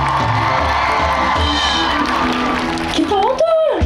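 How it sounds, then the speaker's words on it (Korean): A concert crowd at a show cheers and whoops as the band members are introduced, loud shouting mixed with clapping under music, while a voice calls out over it. "저희 밴드 연주자분들 소개할 때 큰 박수 부탁드릴게요"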